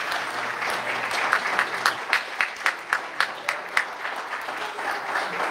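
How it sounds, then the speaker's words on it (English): A congregation gives a warm round of applause, a moderately loud, slightly distant wash of clapping in which several sharp individual claps stand out in a rough rhythm before it settles. "let's give them a warm round of applause."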